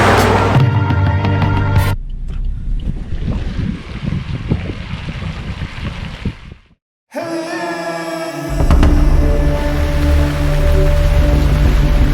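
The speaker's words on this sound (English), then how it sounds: "It's been raining non-stop since last evening." Steady rain patters and hisses outdoors in the Khasi Hills of Meghalaya, with a brief drop-out midway and some low rumble and tonal background sound.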